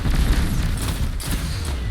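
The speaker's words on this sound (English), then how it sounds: "I'm gonna get a nice little nade here. Try and pop this barricade." A grenade explodes against a barricade in a Destiny 2 Trials match, a loud, close boom with a rumbling tail that fills the short moment.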